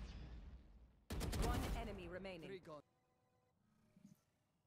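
Rapid gunfire in a bomb-defusal shooter video game, a dense burst of shots heard mostly beneath loud overlapping voices and laughter, then a quieter stretch with faint game sounds.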